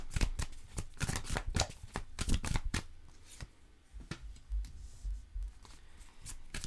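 Tarot cards shuffled by hand in a run of crisp riffling bursts and slaps, louder and denser early on, then softer scattered shuffles with a few low thumps, close up with no talking.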